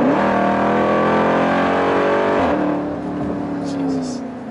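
Jeep Trackhawk SUV engine pulls hard under acceleration, a loud rising drone heard from inside the cabin with exhaust noise from the rear, easing slightly partway through.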